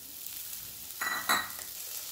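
Roughly chopped onion and vegetables hitting a hot pan for a sauté, a soft sizzle that swells abruptly with a brief stir scrape, close and short, no voices.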